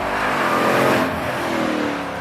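A 900-horsepower Jeep Trackhawk under hard acceleration, its engine roaring loud and close with a steady, sustained rising drone and no voices over it.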